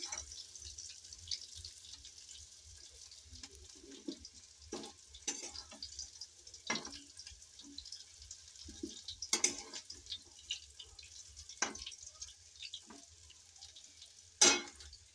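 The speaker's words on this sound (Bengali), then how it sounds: "আমার ফুলকপি ভাজা হয়ে গেছে, এই দেখুন।" Cauliflower florets frying in oil in a wok, a soft low sizzle with scattered sharp clicks and scrapes of stirring and handling, fairly quiet and without talk.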